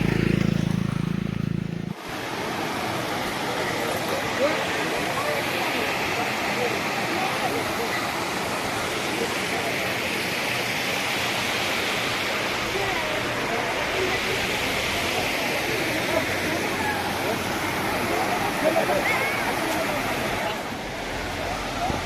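A waterfall at Harishankar temple in Balangir roars in a constant, dense wash of rushing water, loud and steady after a brief opening thump, with no break.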